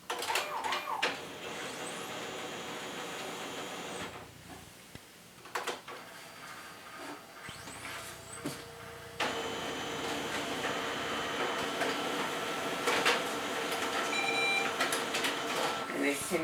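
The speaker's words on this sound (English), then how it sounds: "I'm going to make one copy for the business." Home office printer making a single copy: steady mechanical whirring with clicks and a sliding feed, pausing partway, then resuming louder with rhythmic whirs, while a person talks over it.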